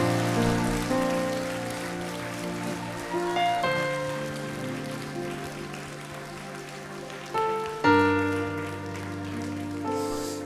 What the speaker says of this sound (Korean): 우리 다시 한번 우리 박수로 격려하도록 하겠습니다.